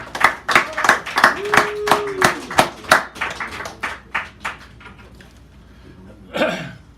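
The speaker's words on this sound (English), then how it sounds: "Give him a round of applause, please." A small café audience at a poetry reading claps for a poet, with a run of distinct, sharp claps in a loose rhythm that gradually spread out and soften. A brief voice sound rises near the end.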